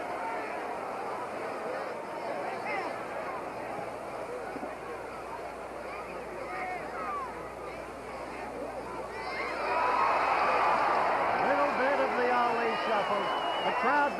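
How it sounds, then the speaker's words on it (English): A boxing crowd murmurs throughout a fight, then swells into louder, excited cheering and shouting in the final seconds, heard under a commentator talking. "The crowd beginning to react with glee because the action has not been stirring."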